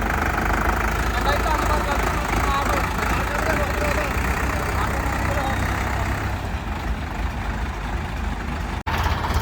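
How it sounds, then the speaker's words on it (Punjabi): A three-cylinder 355 tractor engine idles steadily and loudly throughout, a low, continuous rumble with a faint knocking pulse, cutting off briefly near the end. "355 ਟਰੈਕਟਰ ਇਹ ਤਿੰਨ ਸਿਲੰਡਰ ਵਾਲਾ"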